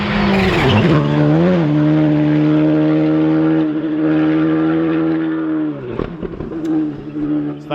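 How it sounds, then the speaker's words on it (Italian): A rally car on the WRC Monte Carlo Rallye 2024 special stage roars past close by, engine howling through gear changes with sustained revving, then a brief tyre or gravel burst and crackle as it moves away. "Stanno ancora transitando le ultime auto"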